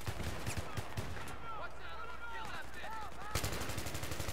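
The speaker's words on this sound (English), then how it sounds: "Guy's unloading with the P90." P90 submachine gun fire in Battlefield 3, rapid bursts of shots at the start and end with a short lull between, heard over game background noise and some voice.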